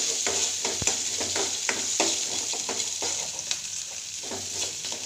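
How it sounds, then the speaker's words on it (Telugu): Mustard seeds, cumin, onions and green chillies fry in oil in a kadai, giving a loud, close, bright sizzle with repeated stirring scrapes and occasional seed pops, and no talk. "నూనె వేసి ఆవాలు జీలకర్ర చిన్న ఎర్రగడ్డలు పచ్చిమిరకాయలు వేసి బాగా వేయించాలి"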